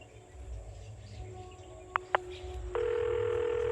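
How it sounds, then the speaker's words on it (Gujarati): A telephone rings back with a steady, loud electronic tone that begins late and holds continuously, preceded by two sharp beeps over a low background hum. "રીંગ જાય ઉપાડો તો."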